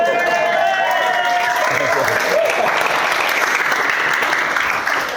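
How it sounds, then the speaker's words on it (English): Wedding guests applaud at Hazel Gap Barn during a best man's speech, a dense, steady burst of clapping from a full room, with cheering voices mixed in and staying loud throughout. "Pause for applause."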